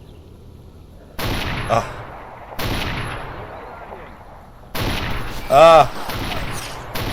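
Video game gunfire comes in three sudden loud bursts, each fading into a ringing tail, while a player groans between the shots.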